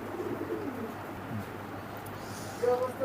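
Pigeons cooing in a loft, including a golden male and a Benaras female, soft low coos close by over a quiet background, with a louder burst near the end.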